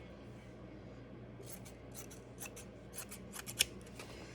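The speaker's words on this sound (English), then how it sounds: "we're going to trim around to make this fit the circle" Scissors trim insect screen to fit a plant pot, a series of close, crisp snips coming faster toward the end over a low background hum.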